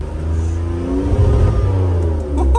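A BMW E46 drift car's engine revs hard and steadily, held up near its limiter with a loud, continuous buzzing roar, briefly dropping and picking back up near the end.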